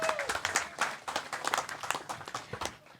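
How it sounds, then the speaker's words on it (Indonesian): Applause from a small audience at a disaster-preparedness dialogue event, steady irregular clapping from several people at a modest level, with a brief voice near the start. "tepuk tangan untuk kita semuanya."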